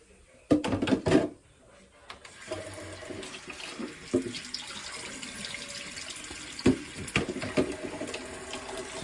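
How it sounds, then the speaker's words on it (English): Bathroom tap running to fill a water pan, with bursts of gushing and splashing water against a steady flow, plus brief knocks and handling sounds between surges. "So I'm filling the water pan up in the bathroom."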